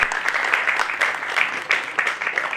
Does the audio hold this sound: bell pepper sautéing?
no